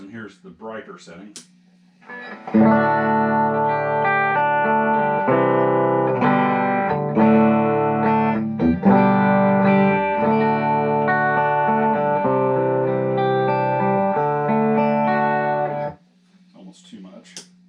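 Electric guitar through a Matchless Spitfire clone amp on a brighter setting, ringing chimey chords sustained for about fourteen seconds, loud and close, with brief quieter playing before and after.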